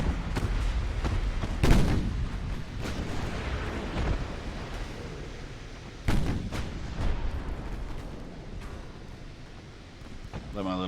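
Naval guns fire in the warship battle game Ultimate Admiral: Dreadnoughts, sharp heavy booms at intervals over a rumbling battle din, with people talking.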